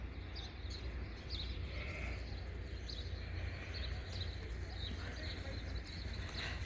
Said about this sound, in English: they have a pretty stress-free life because they're quite a relaxed bunch of sheep